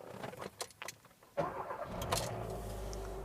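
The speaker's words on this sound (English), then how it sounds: "let's start the vehicle up and see what's going on" A 2013 Kia Rio being started: a few quiet clicks and shuffles, then the engine cranks and catches with a sudden surge, settling into a steady idle hum, close and clear without speech.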